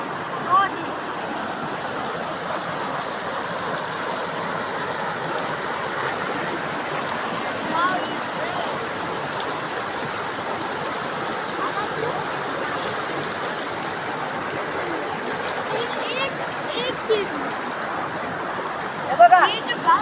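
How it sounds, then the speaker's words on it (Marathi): Steady rushing of falling water fills the whole stretch, a constant broadband wash with a few faint splashes near the end. "वरून पाणी येते बघा"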